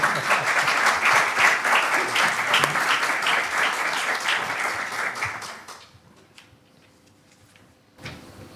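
Applause from a conference audience at an opening session, dense clapping for about six seconds that fades out, leaving near quiet with a brief knock near the end.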